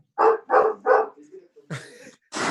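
Dog barking in the background of an online panel talk on sustainable food, three quick loud barks in a row, then quieter whimpers and further sounds as people speak.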